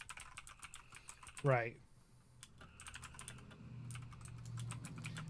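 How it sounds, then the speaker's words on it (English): Rapid clicking of computer keyboard typing in bursts at close range, with a brief spoken word and a short vocal sound breaking in midway, then lighter keystrokes over a low hum. "sorry, I'm typing something"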